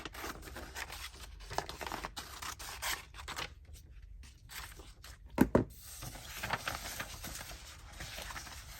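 Scissors trim paper for handmade Christmas journal bags. The snips are soft and close, with faint rustling and one sharper pair of cuts in a quiet room.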